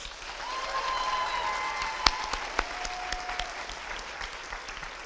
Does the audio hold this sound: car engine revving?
no